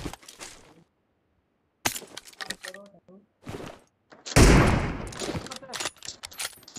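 Gunfire in the mobile battle game PUBG Mobile: sparse shots early, then a loud, dense burst of rapid fire midway that tapers off, with a voice talking between shots.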